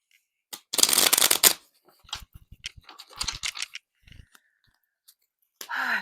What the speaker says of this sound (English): I am clearing out my deck using my ever favorite Light Seers Tarot to start.